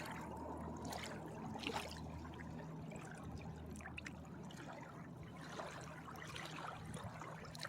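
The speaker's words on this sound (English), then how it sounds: "as you can see and as you can hear, the water even talks to us" Gentle water trickling and dribbling outdoors in nature, a steady, faint, continuous liquid babble with no talking.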